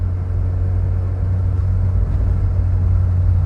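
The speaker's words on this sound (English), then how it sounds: "all overhead valves tend to have a bit of chat going on" A Vauxhall Viva HC's overhead-valve engine runs steadily from inside the car, a loud low rumble with a faint ticking valve chatter riding on top, unbroken and even throughout.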